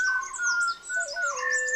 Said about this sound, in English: starting with the songs of the Malabar whistling thrush, singing well before sunrise with its wonderful whistles